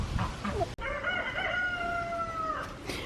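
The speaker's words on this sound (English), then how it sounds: "I only have 4 roosters out here." A backyard rooster crows in a long drawn-out call, with hens clucking around it and a sharp click just before, close and clear with no talk.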